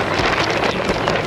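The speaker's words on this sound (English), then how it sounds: "That's the best breeze we've had." A strong gust of wind rushes over an open homemade boat on rough water, a steady broadband roar buffeting the microphone throughout, loud and close with no talking.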